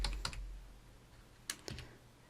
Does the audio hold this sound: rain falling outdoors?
no